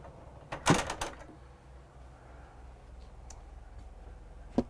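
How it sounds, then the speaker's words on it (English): Pocket door sliding shut to close off the master bath in a 2023 Newmar Super Star 4059 motorhome, a short quiet rolling rattle and knock, then a faint click and a later tap in a still room. "pocket door to close off the master bath"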